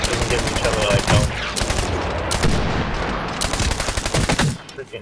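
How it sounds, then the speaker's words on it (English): Heavy artillery barrage and gunfire in the military shooter Medal of Honor Warfighter, loud and continuous with dense overlapping blasts and rapid shots for about five seconds, fading briefly at the end. "Freaking artillery."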